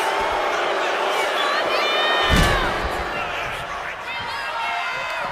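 Live wrestling crowd cheering and shouting at a ringside event, a loud, dense roar with a sharp slam-like thud partway through, heard close and continuous.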